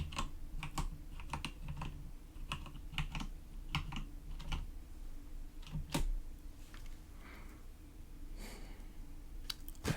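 Password typed on a computer keyboard: a steady run of close, crisp key clicks in uneven bursts, with quiet breathing and low background hum underneath and no speech.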